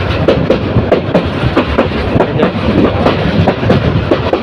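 The Kishorganj Express train rolls steadily along the rails past dense trees, wheels clacking in a regular rhythm over a continuous loud rumble, close and without talk.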